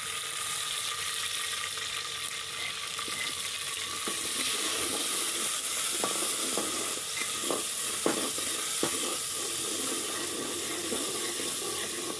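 Steady hiss and crackle of water sizzling in a hot pan with crushed green chillies for savoury daliya, fairly soft, with a few scraping clicks partway through.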